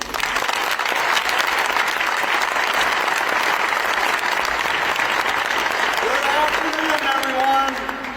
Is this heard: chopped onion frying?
no